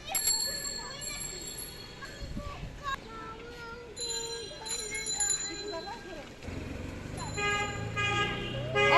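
A vehicle horn honks on a road during a children's bicycle race, with bright tonal blasts and bell-like toots over traffic rumble and people talking nearby.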